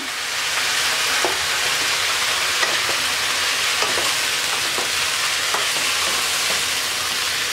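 Mixed vegetables with turmeric powder and salt frying in a pan, a steady loud sizzle throughout with occasional soft scrapes of stirring, no voices.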